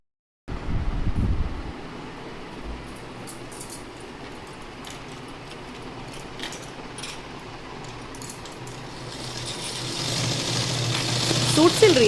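A sewing machine running steadily as a younger sister stitches a blouse, a continuous low mechanical whir with faint rattling, close by, growing slightly louder toward the end.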